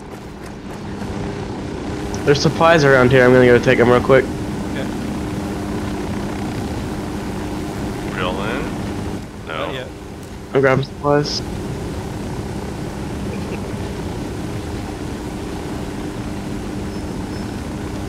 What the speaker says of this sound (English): Let's get in the chopper. Get to the chopper.